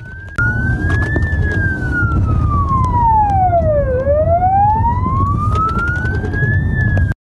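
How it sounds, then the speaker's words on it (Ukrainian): A loud, close siren from an emergency ambulance with a patrol police car behind it sweeps in long wails down and back up, with engine and road noise underneath the whole time. "карета екстреної швидкої попереду, патрульно-поліцейська машина за нею, увімкнені сигнальні сирени та маячки"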